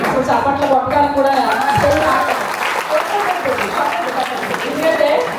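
Audience applause at a Telugu motivational winners camp in Visakhapatnam, a sustained broadband clatter of many hands filling the hall at steady loudness, with voices and crowd noise mixed through it.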